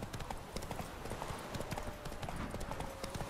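A horse trots in The Witcher 3: Wild Hunt on PS4, its hooves giving a quick, even clip-clop rhythm throughout against a busy game soundscape.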